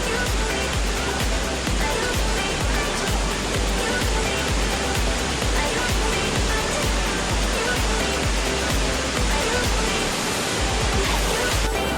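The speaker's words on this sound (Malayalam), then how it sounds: "ഒരുപാട് വെള്ളച്ചാട്ടം കണ്ടിട്ടുണ്ടെങ്കിലും വെള്ളച്ചാട്ടം ഒരു അത്ഭുതമായിട്ട് തോന്നിയത് ഇതാദ്യമായിട്ടാണ്." Panamkudantha waterfall in Pathanamthitta district roars close by, a loud, dense and unbroken rush of falling water that holds steady from start to finish.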